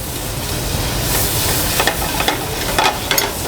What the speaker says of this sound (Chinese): 在锅子里面先放一点刚刚的鸭油，跟上次一样加奶油